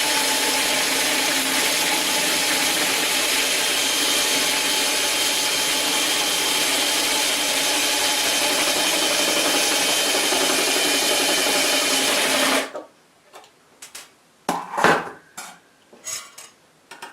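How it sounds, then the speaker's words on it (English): A Taig micro mill's Z-axis lead screw is run out in a long, steady mechanical whir lasting about twelve seconds, then stops, followed by a few brief handling clunks. "Now I'm going to run the lead screw out on the Z axis so I can get"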